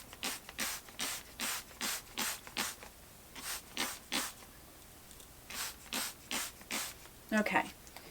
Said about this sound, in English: I have this spray bottle of water